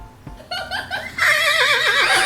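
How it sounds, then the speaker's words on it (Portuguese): A horse neighs loudly in a long, wavering whinny that rises and trembles, preceded by brief shorter vocal sounds, with no talk over it. "como é que o cavalo faz?"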